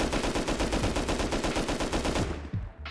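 An LR-300 rifle in the video game Rust fires a rapid full-auto burst of evenly spaced, loud close shots for about two and a half seconds, then stops with a short fading tail.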